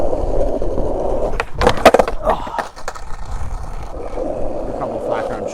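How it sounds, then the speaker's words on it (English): Skateboard rolling and grinding along a ledge outdoors in Vietnam, with a rough continuous scrape and a few sharp clacks of the board in the middle, heard up close under light ambient noise. "skating a beautiful ledge that also sounds amazing"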